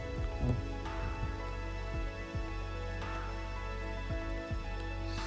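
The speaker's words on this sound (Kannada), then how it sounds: "ಮಳೆ ಭಾಳ ಬರ್ತೈತೆ" Rain falling steadily on a roadside open field, a constant dense hiss with a few scattered knocks and thumps nearby.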